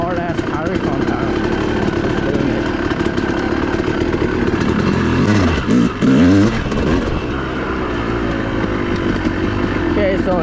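An enduro dirt bike engine running close by, a loud buzzing drone with shifting revs and a couple of brief surges, continuous throughout.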